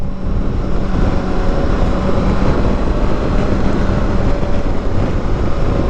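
A BMW K 1600 B motorcycle leans through a turn. Constant loud wind roar and broadband road and engine rumble from the rider's position hold a steady level throughout, with no speech.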